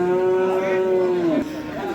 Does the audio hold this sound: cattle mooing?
yes